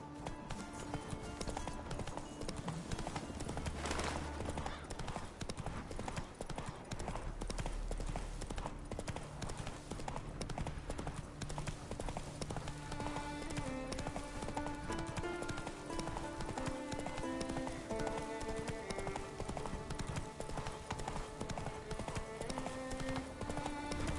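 Hooves of Roach, a horse in Witcher 3: Wild Hunt, clop steadily throughout over game music, with rhythmic footfalls staying fairly near and even.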